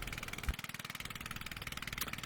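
A tractor engine runs steadily at a moderate, rhythmic throb while saltbush seedlings are planted from the back of it, heard fairly faint with no voices.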